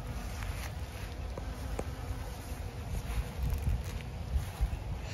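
Bees buzzing close by around basil flowers over a low outdoor rumble, a steady insect drone with occasional louder passes.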